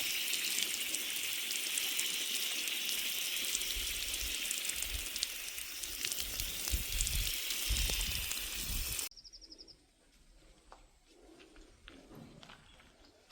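Water is poured onto potted plants, a close continuous splashing hiss with scattered patters that stops abruptly, leaving quieter ambience with faint taps and distant birds.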